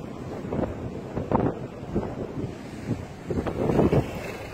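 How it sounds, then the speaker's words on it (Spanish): Wind gusting on a mountain near Cabo de la Vela in La Guajira, Colombia, rushing and buffeting the microphone in uneven, swelling bursts, loud and close, with no voices. "Uy, aquí empezó otra vez el viento."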